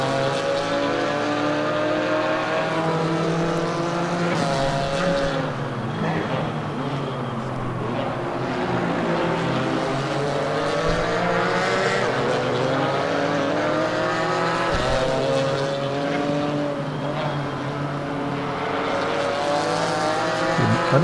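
GT4 race cars, including a BMW M4, battle closely at Snetterton circuit in England, engines droning and revving loudly and continuously, pitch rising and falling through gear changes with no voices.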